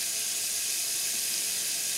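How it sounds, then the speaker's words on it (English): A steady, even sizzle and hiss of meat frying in a hot Dutch oven, continuing without break and without any voices. "I'm going to let that fry up for just a few minutes"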